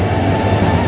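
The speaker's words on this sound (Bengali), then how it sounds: "রায়গঞ্জ থেকে ছেড়ে দিয়েছে ট্রেন কাঠিয়ারের উদ্দেশ্যে" A train leaves Raiganj station for Katihar with a loud, close, steady rumble and a faint high squeal over a dense mechanical roar, with no talk.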